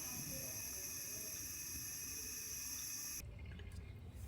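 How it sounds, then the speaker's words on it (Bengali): Cold tap water runs steadily while blanched cauliflower is rinsed at a kitchen sink, a full splashing rush that cuts off abruptly near the end, leaving a quiet room. "এখন আমি এগুলো ঠান্ডা জল দিয়ে ধুয়ে নিচ্ছি।"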